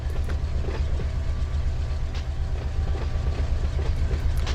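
A freight train rolls along a main line in the Run 8 train simulator game, with a loud, continuous low rumble, a steady rhythmic clickety-clack of wheels and faint metallic tones above.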